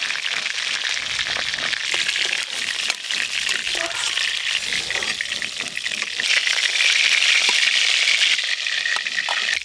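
Pieces of rohu fish fry in hot mustard oil in a pan with a dense, crackling sizzle and scattered pops. Nearby stirring and handling noises run underneath.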